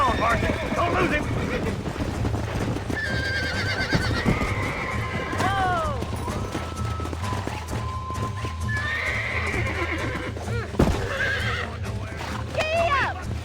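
Horse in the Red Dead Redemption video game, repeated neighs and whinnies over steady galloping hoofbeats, close and continuous, with voices calling out in between.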